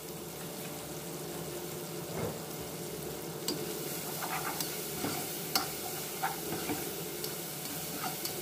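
Onions frying in oil in a pot, a soft continuous sizzle with scattered sharp clicks and stirring taps, quiet and close.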